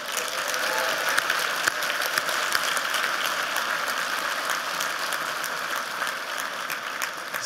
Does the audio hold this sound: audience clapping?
yes